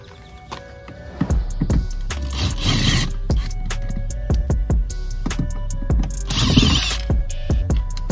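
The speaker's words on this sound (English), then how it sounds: "Screws up here. You can put the Phillips head in." Door panel screws are backed out of an Acura TSX door with a Phillips screwdriver, making loud close ratcheting clicks in quick bursts with a couple of longer grinding, scraping stretches and scattered sharp taps.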